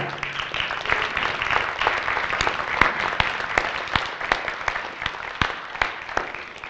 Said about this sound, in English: you guys right here might want to give your teachers a round of applause